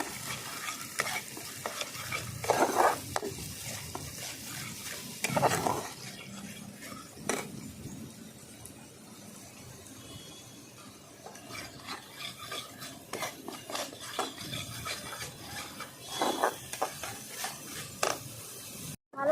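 Spices with salt and turmeric stir-fried in a pan with poppy seed paste for a curd tilapia fish dish, a steady scraping and sizzling with repeated louder spatula strokes, close and continuous, no talking.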